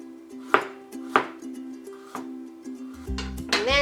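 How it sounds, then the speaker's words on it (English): A knife cuts through carrot into thin diagonal slices, producing a few crisp, evenly spaced chops on a board, close and clear, with a brief clatter near the end. "We want to make thin strips of carrot. So make thin slices,"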